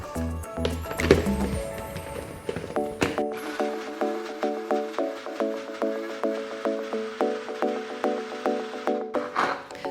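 A small blender shreds raw beet, its motor whirring steadily with a rapid, regular chopping pulse after a clattery start, close and loud throughout.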